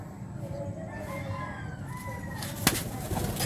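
Pigeons call in a soft series of tonal coos against a steady background murmur, with a brief sharp burst near the end that may be wings flapping.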